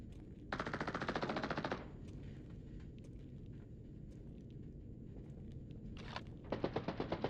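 In the video game Arena Breakout: Infinite, two loud bursts of rapid automatic gunfire, one at the start and one at the end, with scattered distant shots and a low rumble between.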